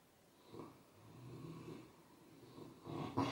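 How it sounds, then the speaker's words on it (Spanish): A pet dog snoring nearby, with two or three slow, rasping breaths swelling and fading, the last one louder than the others. "Eso es mi perro roncando."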